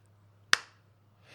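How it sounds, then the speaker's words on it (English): A single sharp clap rings out in BloodRayne 2: Deliverance, one crisp, fairly close smack that fades quickly against a quiet, humming background. "and then we get slow clap"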